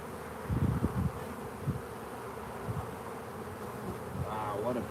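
Honeybees buzz thickly around an open hive during an inspection, a dense droning hum close by with a few louder passes near the listener and faint voices in the background.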